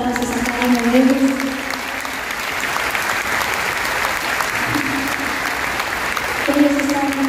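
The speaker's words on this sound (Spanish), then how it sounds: "por favor, fuertes aplausos a cada uno de ellos" Concert audience in the Santo Toribio de Mogrovejo theatre in Peru claps loudly and steadily, a dense applause that holds for several seconds while a voice speaks over it at the start and again near the end.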